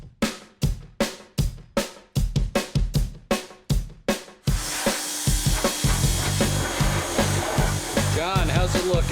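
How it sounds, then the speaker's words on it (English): Pressure washer spraying a degreased 1995 Impala SS frame, a series of sharp bursts giving way to a steady, loud continuous hiss of water spray. "We're going to pressure wash it, let that dry."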